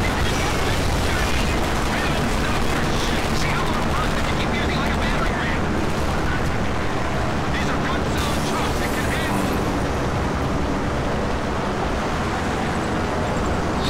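Sustained gunfire from the video game Homefront, a dense, continuous barrage of shots and explosions filling the whole stretch at high volume, with voices faintly mixed in.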